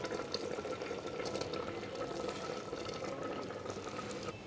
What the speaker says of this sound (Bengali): এখানে আমার ডালটা ফুটে গেছে দেখতেই পাচ্ছ ভালোভাবে ফুটে গেছে ডালটা